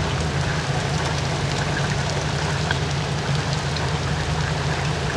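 Steady rain falls at a campsite in Florida's Withlacoochee area, a dense, even hiss of drops with a low rumble underneath, constant and close throughout with no talking.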